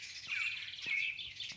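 Bird chirping indoors, a series of bright, high tweets repeating through the moment, fairly close and moderately loud, with no voices over them.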